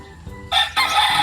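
A gamecock rooster crows once, loud and close, in a short two-part call that rises after a brief pause, with faint background noise beforehand.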